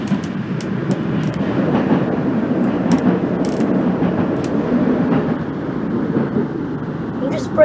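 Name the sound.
train wheel flange noise in the Open BVE train simulator game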